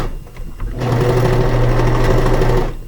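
A serger stitches elastic casing onto a cloth diaper, its motor running in a steady, loud continuous whir after a brief quiet start, close by with no talking.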